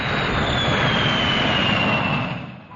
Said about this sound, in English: the expanding gas roars from the jet pipe with tremendous force